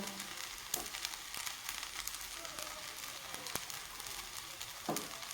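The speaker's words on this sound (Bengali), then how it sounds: "এই পর্যায়ে দিয়ে দিব আমি সামান্য পরিমাণে লঙ্কা" Chili pieces hit a hot frying pan on low flame, setting off a continuous close sizzle and frying hiss, with a few sharp taps and scrapes from the pan and utensil and no speech over it.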